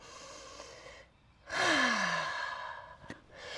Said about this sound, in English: One more, out of the mouth, exhale